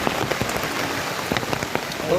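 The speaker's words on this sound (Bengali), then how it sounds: "বৃষ্টিটা কেমন হচ্ছে" Rain pours steadily outdoors, a constant hiss of drops with frequent nearby splashes and taps on hard surfaces.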